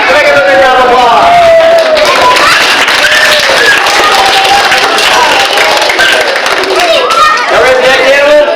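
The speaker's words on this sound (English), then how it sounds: "Can I get another round of applause?" Loud audience applause at a live animal show, a dense crowd clapping with chatter and an excited voice layered over it throughout.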